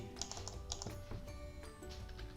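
A short, quiet burst of rapid keystrokes on a computer keyboard during a systems development class, with several light clicks in quick succession.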